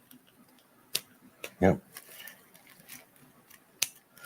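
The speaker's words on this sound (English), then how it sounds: "So I'm going to snip 4 little holes with the scissors." Scissors snipping four small holes, heard as a few sharp, brief clicks and one louder crunch spread across the moment, close and fairly quiet, with a voice speaking briefly.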